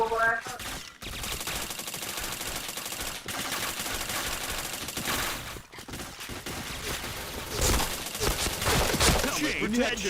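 Rapid video game gunfire in bursts, dense crackling volleys of automatic shots and headshots that fill most of the stretch, loud and continuous with short breaks.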